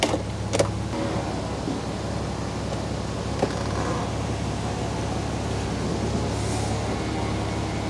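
The electric convertible roof of a Porsche Boxster 986 S lowers with a steady motor whine under the car's idle hum, punctuated by a couple of early clicks and knocks as the mechanism starts.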